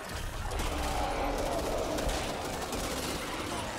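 Dense, continuous automatic gunfire rattles without pause in the Back 4 Blood co-op zombie game, loud and close, with a voice faintly present under the shooting.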